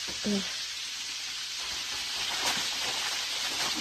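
Flour-coated chicken wings frying in a pan, a steady dense sizzle and crackle heard close up, with a brief faint voice near the start.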